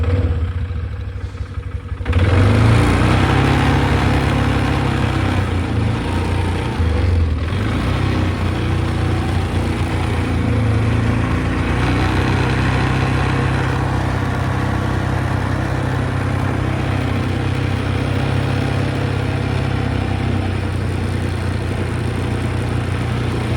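A Polaris Sportsman 500 6x6 ATV engine rumbles through a ride, starting with a brief lull and then a steady, loud mid-pitched drone with clattering mechanical noise and small shifts in revs, heard close up without talk.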